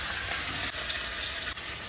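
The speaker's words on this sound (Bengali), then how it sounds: "এই যে শাক আর এই যে কাতলা মাছের মাথাটা ভেজে নেব।" A katla fish head fries in hot oil, giving a steady loud hiss and crackle that fills the stretch, broken by a couple of brief dips.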